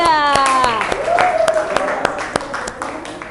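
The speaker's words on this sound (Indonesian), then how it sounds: "tepuk tangan buat kelompok 3." Students in a classroom clap for a presenting group, with sharp, fairly evenly spaced claps running under children's voices and speech throughout.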